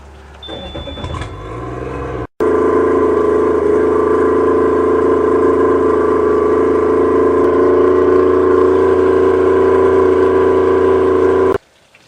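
A two-stroke EFI outboard boat motor starts after a brief crank, then idles in a steady loud drone for about nine seconds before cutting off abruptly.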